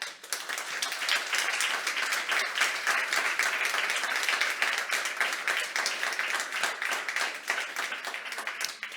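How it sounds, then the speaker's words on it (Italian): A conference audience at a job-day event in Tortolì, Sardinia, applauds steadily and densely for the whole stretch, a sustained wash of many hands clapping at an even, fairly loud level. "per cui chiedo un applauso."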